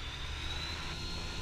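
A light aircraft engine at maximum RPM drones steadily and loudly, a constant unbroken roar from the cockpit with no speech over it.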